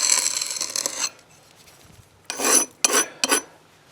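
A brick jointer striking tool is drawn along fresh mortar joints, making close gritty rasping scrapes: one long stroke, a pause, then three shorter strokes.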